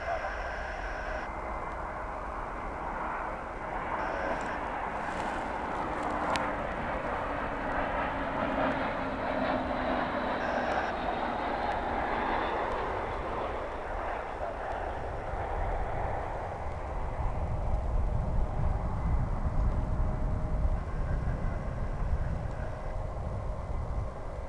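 An airliner passes a plane-spotting area at Dallas/Fort Worth International Airport with a broad, distant jet roar. The sound holds steady for some time, then swells somewhat louder toward the end.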